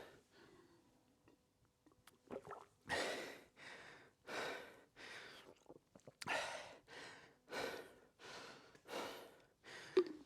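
Heavy, rhythmic breathing right after a strength-training superset, about nine loud, close gasping breaths following a quieter start.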